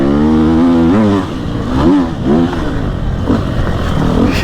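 Enduro motorcycle being ridden, engine loud and close, revving up and down through gear changes with rising and falling pitch, some rattle and scrape, no talking.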